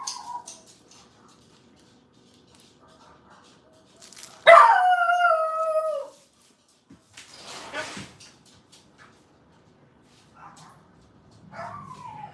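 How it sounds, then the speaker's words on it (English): Dogs barking and howling, with a long, loud howl in the middle and shorter yips and barks around it, fairly near, with faint quiet gaps between. "Barking dogs."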